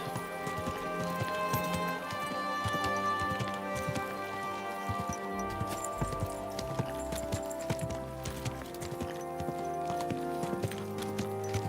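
Horse hooves clip-clop steadily in the video game Kingdom Come Deliverance II, a continuous rhythmic trot under ambient game sound and music, moderately loud, without talk.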